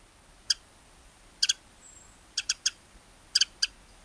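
A wild bird that perches atop conifers and lingers into December gives about nine short, high chirping calls, singly and in quick clusters of two or three, clear against a quiet background with no voices.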